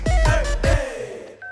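An old rotary telephone is dialed, giving a few quick clattering dial returns close by, each a short mechanical whir and click, followed by a faint electronic tone.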